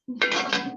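Enamelled iron cooking pots clatter and clink as they are handled, a short, close burst of bright metallic knocks and rattling with no voices.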